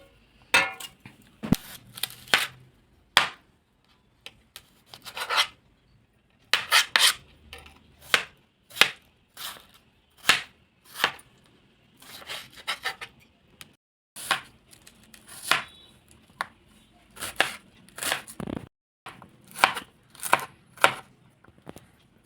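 Tomatoes and onions are cut by hand on a board. About two dozen separate knife strokes land at an uneven pace, each a short crisp chop followed by a brief pause, close to the listener, with no talking.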